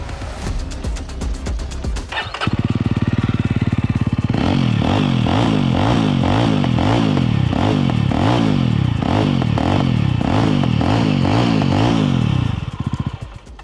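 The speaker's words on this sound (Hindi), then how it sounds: "काफ़ी अच्छा एग्जॉस्ट नोट मुझे फ़िलहाल ये पहली बार सुनने में लग रहा है।" A Jawa 350 motorcycle runs through its twin exhausts with a loud, bassy, repeated revving note that rises and falls over about ten seconds, preceded by a quieter idle.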